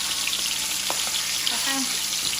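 Chicken pieces frying in very hot oil for fried chicken, a continuous close crackling sizzle with a few faint clinks.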